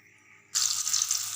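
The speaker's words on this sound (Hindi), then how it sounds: "ये मैंने डाल दी है फ्राई पैन में, तो ये फ्राई हो जाएगा।" Potato and lentil kebabs drop into hot oil in a frying pan, and a sudden loud, steady hiss of frying takes over partway through after a quiet start.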